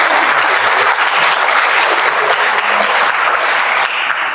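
A large audience at a Scouting America Connecticut state report gathering in the Capitol gives loud, sustained applause, a thick steady roar of many hands clapping with no voices over it.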